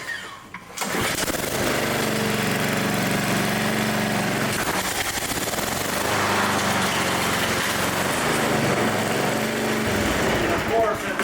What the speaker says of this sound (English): This mower runs, and this one's got the blade clutch on it.